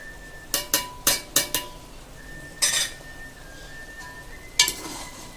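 Mutton and ground spice powder for korma are mixed in a pot on high heat: a quick run of loud metallic clanks from a spoon against the vessel, then a few separate scrapes and knocks over a faint sizzle.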